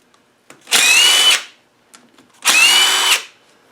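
A power tool whirs in two short, even bursts, each under a second long, removing bolts from an LT230 transfer box off a TD5, with faint clicks of handling in between.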